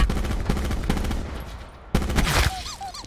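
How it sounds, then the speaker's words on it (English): Gunfire in an online shooter game with mountain snipers, a dense rattle of shots followed by a sharp louder burst of cracks near the end, with game sound effects underneath. "We're getting sniped."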